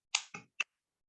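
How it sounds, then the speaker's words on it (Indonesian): Three quick, sharp claps in an uneven rhythm, close and fairly quiet, from a rhythmic 'tepuk semangat' clap led by a teacher in a Grade 6 Indonesian-language online lesson, followed by silence. "Tepuk semangat."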